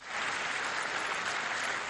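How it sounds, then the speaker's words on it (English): Sustained applause fills the United Nations General Assembly chamber as a Palestinian leader enters, a steady dense roar of clapping hands heard alone throughout. "Then a resounding ovation as a Palestinian leader entered the General Assembly chamber."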